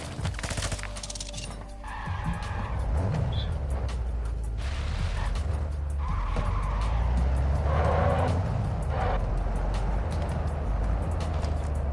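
A vehicle driving in Call of Duty Warzone 2.0 DMZ, engine droning and rising steadily with tire skids and rumbling over rough ground, fairly close and continuous, with scattered clatters and gunfire-like bangs around it.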